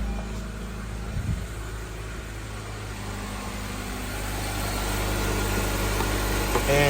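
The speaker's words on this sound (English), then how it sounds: "Engine is running." A car engine idles just after starting: a steady, low, even hum with slight vibration that grows a little louder, close by, with no speech.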